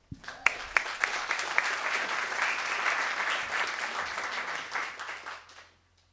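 Audience applause for a speaker, Donna Cosgrove, at the NUI Galway Threesis final, a steady crowd of clapping that swells quickly, holds for several seconds and then fades out.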